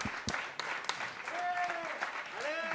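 Applause at a Grand Raid press conference in front of the media, a fairly faint, steady patter of clapping with some voices and sharp clicks scattered through it.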